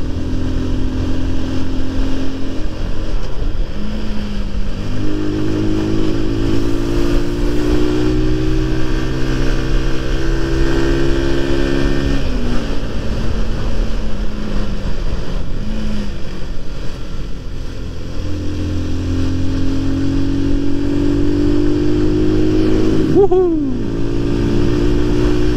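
A 2011 Honda CBR150R climbing a hill road toward Puncak, its engine droning loud and steady from the rider's position, with gear changes and shifting revs as the bike pulls uphill through wind noise.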